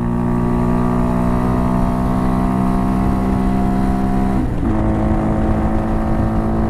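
Honda Hawk DLX motorcycle engine held at full throttle in fourth gear, a loud steady drone with stacked harmonics that dips briefly as a gear shifts, then resumes, close and continuous.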